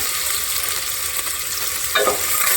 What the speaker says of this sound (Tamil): இது கொஞ்சம் லைட்டாக வதங்கட்டும்